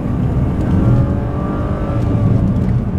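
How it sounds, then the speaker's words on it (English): A BMW performance coupe engine, E36 328i Sport or 330Ci Clubsport, roars loud and close in a steady sustained drone with a slight rise in revs, and no voices over it. "The roar of the engine, the open road"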